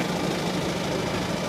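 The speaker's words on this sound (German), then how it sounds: "Reichen da 115 PS zum Ziehen dieses Hackgerät?" A 115 hp tractor engine pulls a hoeing implement through a pumpkin field, giving off a steady, dense, close mechanical drone with an even rumbling texture and no talk over it.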